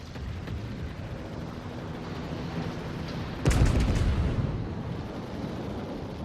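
A World of Warships battleship gun salvo: one heavy booming blast rises suddenly from a steady background rumble, then fades slowly over the next second.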